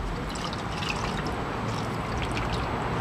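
Water splashes and trickles as a lawn mower's foam air filter is dunked and swished in a container of water, a steady close liquid sloshing with no talk.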